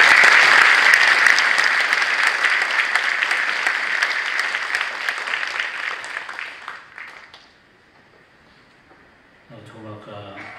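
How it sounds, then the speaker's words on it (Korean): Congregation applauding loudly in a church at a dedication thanksgiving service to welcome a pastor, the dense clapping gradually fading to near silence before a voice begins speaking. "우리 박수로 환영하겠습니다"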